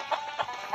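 Chicken clucking in the Stick Man Party video game: three short, evenly spaced clucks, quiet and alone.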